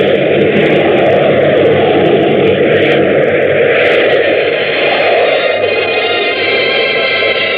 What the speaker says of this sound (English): As the plane hit the glide path down to the landing strip